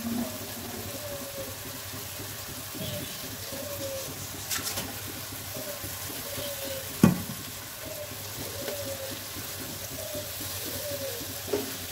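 Hilsa fish simmering in a thick sizzling masala gives off a continuous soft frying crackle with a few scrapes and a sharp clink, while faint background sounds drift in behind it.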